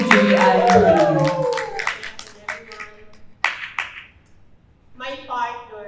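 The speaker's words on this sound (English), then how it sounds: "let's all give a round of applause to Julian" Scattered claps from a small audience at a poetry festival, a handful of sharp, distinct hand claps that thin out and stop, followed by a person beginning to speak.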